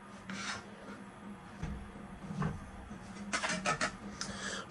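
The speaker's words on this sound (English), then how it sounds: "Can go ahead and pull off my handguard. And my barrel comes with it." Handguard and barrel being pulled off a Benelli M4 shotgun fitted with a Briley part, heard as several close scraping, rubbing metal-on-metal rasps and clicks, with a louder cluster of rasps near the end.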